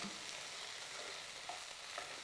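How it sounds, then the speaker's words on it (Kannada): Okra frying and being stirred in a pan for chutney, a steady close sizzle with a few light scraping stirs, no voices. "ಇದು ಬೆಂಡೆಕಾಯಿ ಅರ್ಧ ಫ್ರೈ ಆದರೆ ಸಾಕು"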